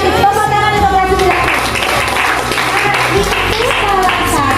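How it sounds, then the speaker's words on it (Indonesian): Students in a classroom break into loud, sustained clapping over a few seconds, with a teacher's voice speaking over the applause. "Tepuk tangan untuk kreatif."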